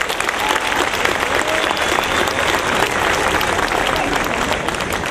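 A theatre audience applauds dancers at a Greek folk dance event, with loud, dense, continuous clapping that stays even throughout.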